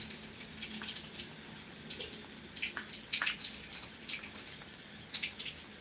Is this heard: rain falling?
yes